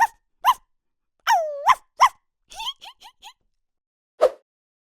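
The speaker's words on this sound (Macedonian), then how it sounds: "Куќе. Куќе. Дојди, куќе." A dog barks in short, sharp bursts, several in quick succession with a few gaps, fairly close and clear, no talking.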